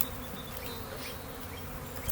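Honey bees buzz inside a 3 pound package during installation, a dense, steady hum that holds without pause from start to end, close and fairly quiet, with no voices.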